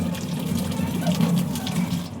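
Water drains off boiled sukkad, a traditional Marathi dish cooked for Katari Amavasya, in a steady, fairly loud gushing stream that runs unbroken for a couple of seconds.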